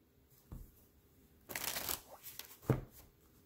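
A deck of cards being shuffled close up, a soft riffle and rustle building into a longer burst before a final snap, quiet and without speech.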